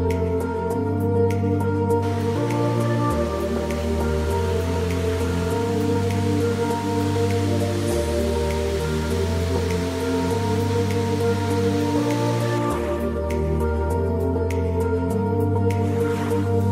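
Heavy rain pours at Aberdeen waterfall, a steady, dense rush of water and raindrops that runs throughout, with tuneful music playing over it.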